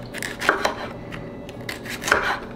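Knife chopping vegetables on a board, a close run of crisp thuds in two quick clusters with softer taps between, no voices.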